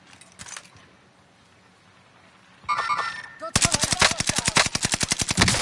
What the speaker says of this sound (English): Are they shooting at us?